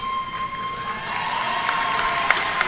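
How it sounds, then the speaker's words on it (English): A crowd at a Carolina Carnage 2023 fight event cheers for an injured fighter, a faint, distant swell of cheering and applause with no talk over it. "Cheers from the crowd as the fighter is able to move under his own power"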